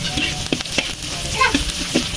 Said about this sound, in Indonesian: Kita goreng bawang putihnya dulu ya sobatku.